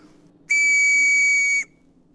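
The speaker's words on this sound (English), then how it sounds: "I'll blow this whistle, and hopefully Grizzly will hear it" A single shrill whistle blast held steady for about a second, loud and clear against a quiet background.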